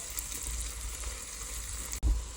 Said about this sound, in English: To that butter, I'm going to go in with about 3 cups of very thinly sliced onion.